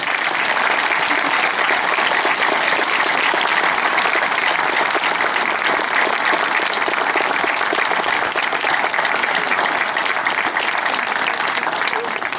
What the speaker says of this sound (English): just a big round of applause for the Mulcahys and for everyone here